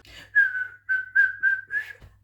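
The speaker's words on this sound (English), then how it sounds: "this is the best I've been whistling when listening to this song" A person whistles a tune, six clear, close melodic notes in a lilting rhythm with short gaps between phrases.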